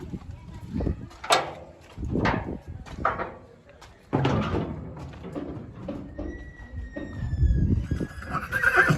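A Kathiyawadi mare neighs and whinnies several times nearby, loud bursts with pauses between, joined by thumping hooves and a door noise.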